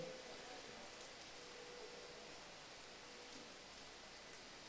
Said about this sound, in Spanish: Está cayendo una lluvia impresionante.